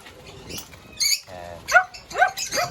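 A dog gives several short, yappy barks and whiny yelps in quick bursts, fairly close, with quiet moments between them.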